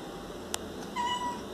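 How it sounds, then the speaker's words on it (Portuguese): A house cat meows softly indoors, a brief faint tonal call over quiet room noise, with a short click just before it. "A gatinha da minha mãe tá aqui."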